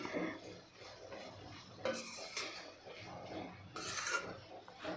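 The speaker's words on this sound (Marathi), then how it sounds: "असं हलवत हलवत परतत परतत आपल्याला हे थोडंसं घट्ट करायचं आहे" Spoon scraping and stirring a thickening jaggery mixture in a pan for a patolya sweet, a steady soft rasping and rubbing with a few louder scrapes, close and quiet.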